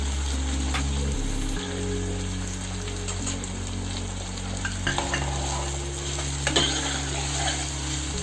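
Paneer chilli gravy with soy sauce is stir-fried over a high flame, a loud continuous sizzle broken by scraping stirs and the clatter of a spatula, with a shift in the hiss partway through.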